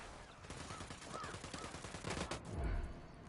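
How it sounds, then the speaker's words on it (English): Gunfire in Tom Clancy's Ghost Recon crackles in a dense, distant-sounding flurry of shots with a heavier thump near the end, muffled under a constant noisy game background. "I'm shooting these fuckers."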